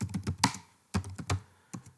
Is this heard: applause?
no